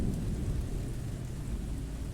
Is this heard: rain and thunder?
yes